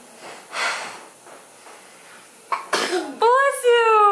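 A sharp sneeze bursts out close by after some breathy snorts and throat sounds, followed immediately by a voice speaking.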